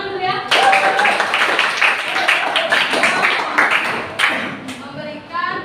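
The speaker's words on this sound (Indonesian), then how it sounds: "Tepuk tangan dulu ya" A group at an Indonesian teachers' academic supervision and coaching session claps together, a busy patter of hands running under and between nearby voices talking and calling out, rising and easing off in waves.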